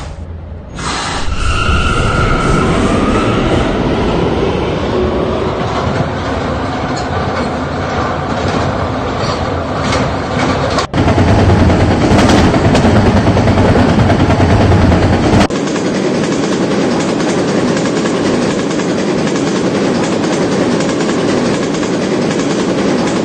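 An R179 subway car on the K line rides underground, a loud continuous roar with rattling wheels and rhythmic clacks, briefly shifting in tone midway before settling into a steadier rumble.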